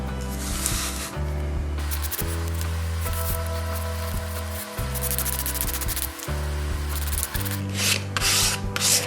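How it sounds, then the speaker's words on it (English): Chalk paint being scraped back off a piece of wooden furniture makes a loud, continuous rasping scrape close by, running in long strokes with brief breaks between passes. "Make sure that you're scraping it right along."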